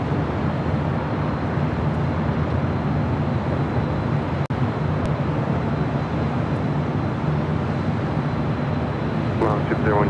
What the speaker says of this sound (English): Finnair coming up from the north side at takeoff.